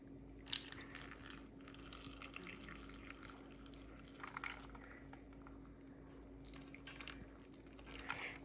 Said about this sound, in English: You're gonna take some ice water and pour it into the butter and mix it.